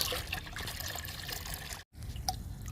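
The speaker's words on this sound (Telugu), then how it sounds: "టమాటా మొక్కలకి లిక్విడ్ ఇస్తున్నాను." Homemade liquid fertilizer, a blend of three ingredients, poured onto tomato plants: a steady, close trickle and splash of liquid running into soil, briefly cut off near the end before resuming.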